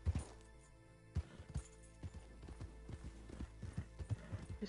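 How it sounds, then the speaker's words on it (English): Horses' hooves clip-clop in an uneven series of knocks and thuds as riders approach in a video game, soft and somewhat distant over a low background hum. "They're gonna ride up on horses, I think."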